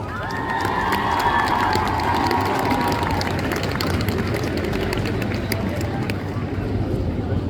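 A festival audience at a cosplay contest at Japan Tours Festival 2025 cheers and applauds for a cosplayer. The loud crowd roar and clapping swell quickly and stay sustained, with shouts and voices mixed through the noise.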